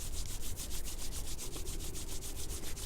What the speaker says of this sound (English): So rubbing your hands together